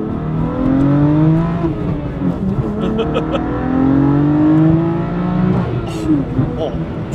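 A tuned BMW F80 M3 with the S55 engine revs and accelerates hard, its tone sweeping up through the gears in two long pulls with a sharp shift between them. Loud, close cabin sound with no talk over it.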